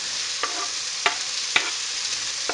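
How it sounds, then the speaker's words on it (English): Onion frying in a pan already used for cooking meatballs gives a steady, bright sizzle, with a few short scraping stirs on top, close and fairly loud throughout. "into the same frying pan that we've been cooking the meatballs, we're going to put the onion"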